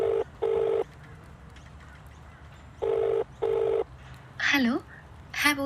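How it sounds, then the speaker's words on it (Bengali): Telephone keypad tones sound as a number is dialled for a call, four steady beeps in uneven pairs against a faint hum, followed by a short chirping burst. "একদিন নীলাঞ্জনা কলেজে যাওয়ার জন্য সঞ্চারীকে ফোন করলো।"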